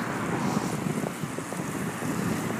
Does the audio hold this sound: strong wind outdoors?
yes